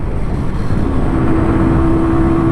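An MZ motorcycle rides at about 40 mph, its engine a steady, close drone with a faint whine lifting partway through, broad road and wind noise underneath, and no talking.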